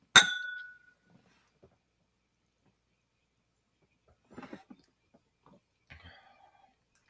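Glasses of 115-proof Old Forester whiskey clink once in a toast, a bright ringing chime that decays over about a second, followed by quiet pauses and then brief soft talk.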